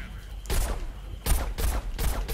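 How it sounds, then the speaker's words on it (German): Sharp single sniper rifle shots from the Plants vs Zombies Garden Warfare video game, three loud separate cracks spaced about a second apart, each with a short decaying tail. "Ein Schuss, nicht automatisch."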